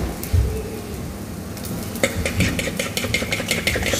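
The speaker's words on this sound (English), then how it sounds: "Stir in that cheese." Spaghetti carbonara with cheese being stirred in using a fork: soft wet squelching and mixing, then quick repeated scraping strokes in a busy rhythm for the last two seconds.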